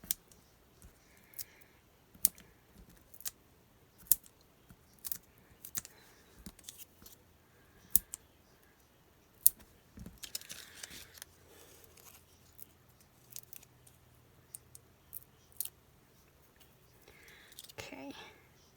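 Scissors cutting paper ghost shapes for Halloween, heard as scattered crisp snips and paper rustles up close, with quiet speech in places.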